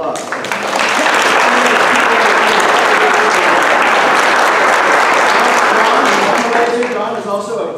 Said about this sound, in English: Tina, stand up and a round of applause.